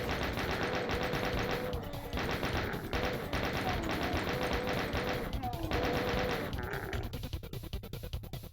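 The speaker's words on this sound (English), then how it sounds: "Let's just finish them off with a chain gun." Rapid automatic chaingun fire from Doom II, a continuous stream of loud, closely spaced shots with brief pauses between bursts, mixed with other game sounds.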